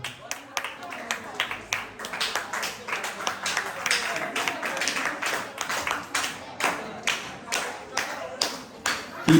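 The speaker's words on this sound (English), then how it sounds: "Keep clapping, keep the applaud going" Audience at a small school graduation clapping for the graduates, a sustained stretch of irregular applause with some sharp individual claps standing out, while a voice speaks faintly in the background.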